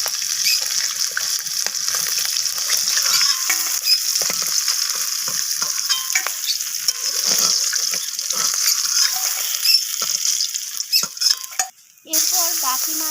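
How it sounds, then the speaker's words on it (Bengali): Rohu fish pieces fry in oil until reddish, a bright hissing sizzle that holds steady for several seconds with small crackles and a brief dip near the end. "তো এই পিসটাকেও আমি লালচে করে ভেজে নেব।"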